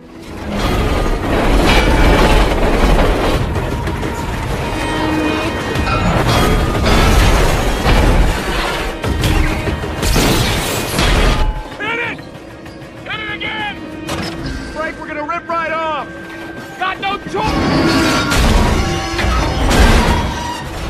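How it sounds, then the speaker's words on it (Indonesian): In a film, a speeding freight train tilts and derails on a curve, with loud booming crashes, grinding metal and bursts of impact across a dense, chaotic roar, while a voice narrates over part of it. "Kereta dengan melebihi batas kecepatan tikungan mulai terlihat miring dan akan keluar dari jalur."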